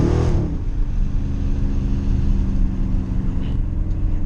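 A loud Dodge Charger engine revs and roars steadily on a backroad, a dense continuous drone close to the mic with no talking.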